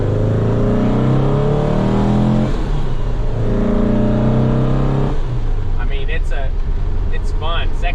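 A 1961 VW Beetle's air-cooled engine drones loudly from inside the car, pitch climbing and dropping as it shifts up through the gears, with a voice talking over the steady engine noise.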